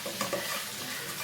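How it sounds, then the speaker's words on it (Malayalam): Sambar powder and turmeric being stirred in a pan over a low flame: a short, close, steady scraping and faint sizzle with no voices. "ഫ്ലെയിം നന്നായിട്ട് കുറച്ച് വെച്ചിട്ട് ഒന്ന് ഇളക്കി കൊടുക്കാം."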